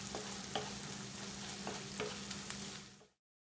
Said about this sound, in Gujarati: હવે ડુંગળીને 2 મિનિટ સાતળી લઈએ